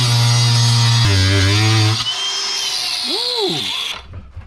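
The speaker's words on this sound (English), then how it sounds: "I'm going to use the grinder. Let's try the grinder." An angle grinder cuts material during a kitchen cabinet build inside a converted bus, its loud, close whine dropping in pitch twice under load before spinning down and fading at the end.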